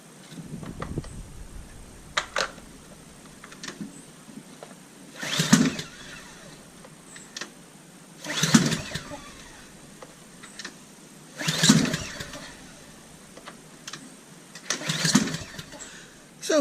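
A DR string trimmer's two-stroke engine is pull-started on full choke: four or five separate rasping pulls spaced a few seconds apart, each a brief sputter that never catches, with quiet gaps between.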